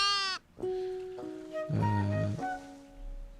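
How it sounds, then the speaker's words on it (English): Sheep bleating in a video game, a few wavering nasal bleats in quick succession, close and clear against quiet background. "Sheep."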